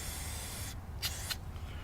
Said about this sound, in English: put some spray